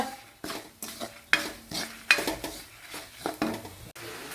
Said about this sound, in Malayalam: കണ്ടിന്യൂ ആയിട്ട് ഇളക്കി കൊടുക്കണം അല്ലെ കരിഞ്ഞു പോകും